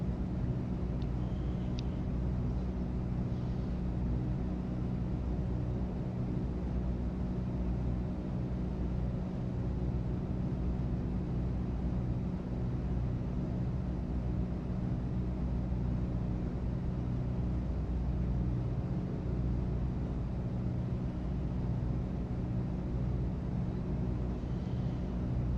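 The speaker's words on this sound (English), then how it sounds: "Engine sounds are amazing." Steady, continuous drone of a Mooney Ovation's piston engine in a flight simulator game, holding an even tone in cruise with no voices over it.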